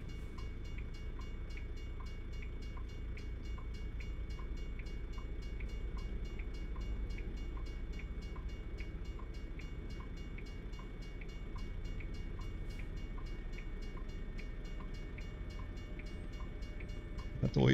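A train rolls steadily past a rail crossing at night in American Truck Simulator, a low continuous rumble at moderate volume with regular faint ticking from the crossing signal, and no talk.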